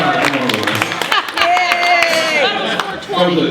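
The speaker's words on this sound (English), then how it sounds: "Give her a round of applause" A crowd gives a round of applause for a performer, scattered clapping mixed with cheering and loud chatter, voices talking over it throughout.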